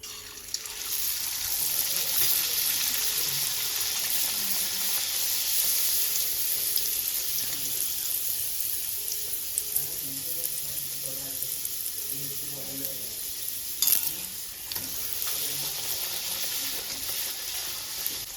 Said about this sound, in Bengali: তেলটা গরম হয়ে গেছে ভাজার জন্য লুচিটা দিয়ে দেবো